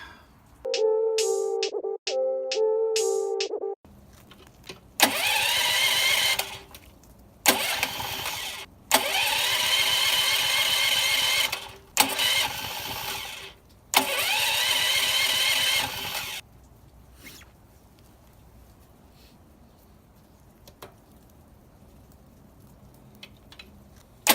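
A propane generator engine cranks in several loud, separate starting bursts with pauses between them, then settles into a quieter, steady running hum.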